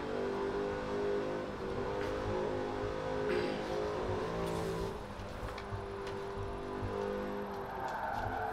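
Engine of a Jaguar XKRS GT driven in Forza Horizon 4, a loud, steady roar with rising and falling revs as the sliding rear-drive car is pushed hard, continuous and close throughout.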